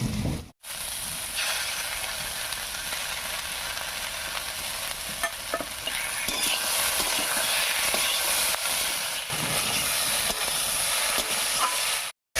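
Potatoes and stalks sizzle in a pan with ginger, garlic and chilli paste, a steady loud frying hiss with stirring scrapes that runs almost unbroken after a short pause near the start.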